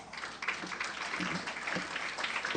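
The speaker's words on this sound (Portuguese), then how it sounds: "Vamos receber com aplausos" Audience applause at a public finance seminar in Bahia, welcoming a speaker to the panel: moderate, steady clapping from a room of listeners, with a few sharper claps standing out.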